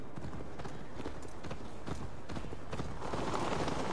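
A horse gallops in the video game Assassin's Creed Valhalla, producing rapid rhythmic hoofbeats that are loud and close, with a steady rushing ride noise building toward the end.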